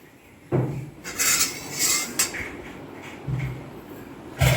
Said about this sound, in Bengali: আর এদিকে কড়াইটাকে বসিয়ে দিই